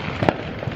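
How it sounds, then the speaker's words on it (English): A single sharp crack of illegal fireworks bursting on the Fourth of July, brief and fairly loud against a steady outdoor background. "These illegal fireworks."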